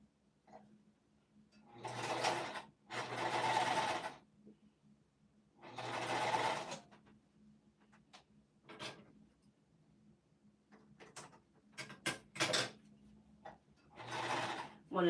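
A sewing machine stitching a pouch runs in several short bursts separated by pauses, with a faint background hum and small clicks between runs, quiet and close.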